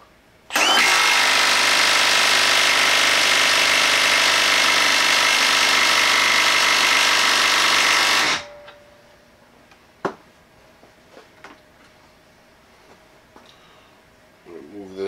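A Milwaukee M12 3/8-inch stubby impact wrench runs loud and close in one unbroken burst of about eight seconds, then stops, leaving a quiet room with a few small clicks and knocks.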